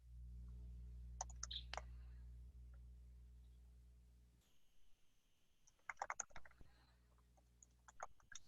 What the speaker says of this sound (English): I hope no one's just listening to me type. The clicking of your keyboard is so soothing.